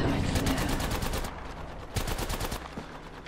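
Rapid automatic gunfire in the battle royale shooter Apex Legends, bursts of dense repeated shots crackling loudly in two sustained volleys with a short lull between, no talking.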